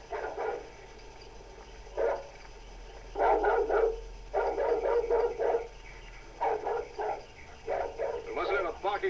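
A dog barks in repeated bursts at an isolated farm building, moderately distant, several short barks spaced across the scene with quiet gaps between.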